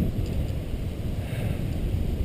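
Steady wind buffeting the microphone at a canyon overlook, a low rushing roar that never lets up, with no voices.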